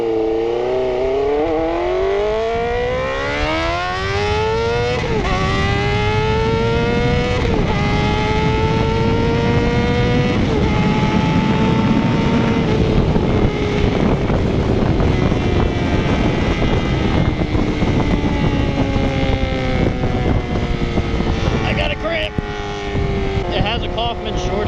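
A car with an 8-inch straight pipe exhaust, baffles removed, droning loudly while driving, its engine tone climbing and falling through gear changes, with wind rush and a voice speaking over it.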